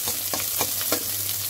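Chopped onion frying in oil in a pan, a dense close sizzle with a few quick stirring scrapes pulsing through it, loud and steady.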